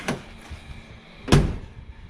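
A Ford Galaxie 500 door shuts with a solid thunk near the end, preceded by a fainter click or knock, close by and alone without speech.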